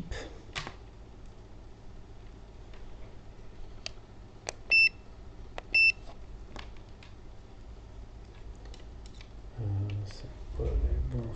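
A multimeter in continuity mode gives two short, distinct beeps about a second apart while a laptop motherboard is probed for a short circuit, with soft clicks and handling noise around them.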